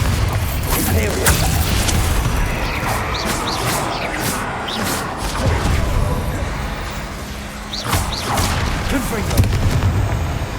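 Confringo and Bombarda spell blasts in Hogwarts Legacy land as repeated heavy booms and crashes over a constant loud rumble of combat, with a voice speaking through the action.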